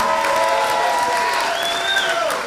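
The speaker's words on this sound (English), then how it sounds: "I want to give one last round of applause for Cam" A crowd at an awards ceremony for a short-takeoff-and-landing aircraft racing championship claps and cheers, with sustained loud applause and a few whoops and shouts rising over it.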